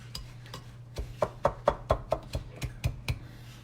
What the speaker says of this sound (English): let's get this butter cut up in there